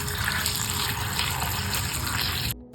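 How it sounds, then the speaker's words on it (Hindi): Water runs from a tap into a bowl of cut potatoes, making a loud, steady gushing stream that stops abruptly near the end, with no talk. "बाउल में हम पानी डाल लेंगे।"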